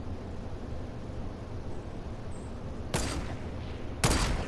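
Fortnite gunfire plays as two short, sharp bursts near the end, over a steady background hiss of game ambience. The shots are moderately loud and no one speaks.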